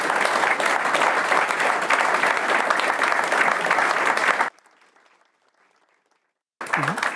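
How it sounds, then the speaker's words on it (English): Loud, sustained applause from an audience at a cycling team presentation, clapping steadily for several seconds before stopping abruptly, then resuming briefly after a short silence. "Can I get an applause for Christine, Chantal and Danny?"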